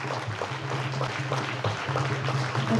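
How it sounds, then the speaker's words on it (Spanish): An audience claps at a school event in the village community of Chichoy Alto, a brief burst of fairly dense applause under a low steady hum, holding at an even level throughout. "démosle un aplauso a nuestro Dios Todopoderoso"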